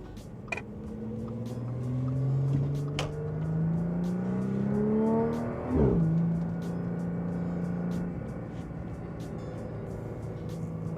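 A 400HP Audi S4 engine revs up through the gears from inside the cabin on a scenic drive, rising in pitch, dropping at a shift, then climbing again, loud and continuous with clicks throughout.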